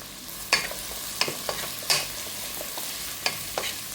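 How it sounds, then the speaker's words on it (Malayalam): Onions softening in a pan for vegetable curry, a low sizzle punctuated by several sharp scrapes and clicks of a spoon stirring at irregular intervals. "ഉള്ളിയൊക്കെ അതുപോലൊന്ന് വാടി വരുന്നുണ്ട്."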